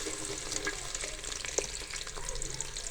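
Chopped onions fry lightly in a karahi for beef karahi with black pepper, giving a close, continuous hiss and sizzle with a few scraping stirs.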